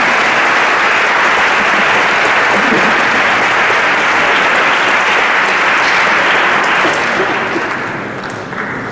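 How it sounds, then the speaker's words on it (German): Steady audience applause at a concert with bass clarinet, sustained and dense throughout and tapering slightly near the end, with no talk over it. "Applaus für Afghanistan"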